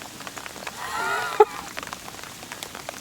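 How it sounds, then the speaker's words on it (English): Light rain falls at a carp fishing lake in France, a soft, faint patter with a brief whining tone and a sharp click midway. "it's starting to rain again"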